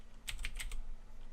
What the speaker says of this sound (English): And if I type in